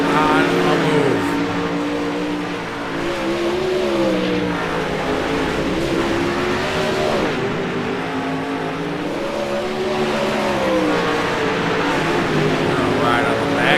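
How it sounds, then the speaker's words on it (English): 360 sprint cars tear around a track during a heat race, a loud continuous engine roar whose pitch surges and dips as the cars accelerate and back off, with an announcer talking over the din. "360 sprint car. Ripping, rock and rolling. These sprint cars are on a move."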